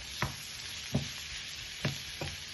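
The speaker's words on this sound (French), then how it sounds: "Donc, je rissole ça, je continue à le cuire." Food browning in a frying pan alongside spinach, giving a steady close sizzle broken by four short scraping stirs of a utensil against the pan.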